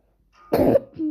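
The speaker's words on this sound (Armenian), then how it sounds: "ես միշտ էլ հազում եմ" A single close, harsh cough erupts, followed by a brief throat-clearing rasp and the start of a voice.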